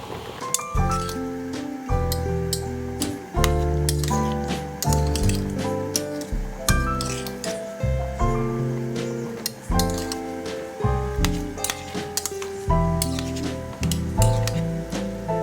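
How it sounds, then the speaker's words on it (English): A spoon stirs blueberries heating in a pan, making frequent bright clinks and scrapes against the metal in an irregular rhythm, close and clear with no one speaking. "I'm just going to stir these berries as they're heating up, because we don't want them to stick to the bottom of the pan"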